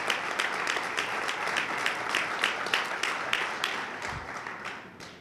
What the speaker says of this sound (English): Another round of applause for all our awardees tonight.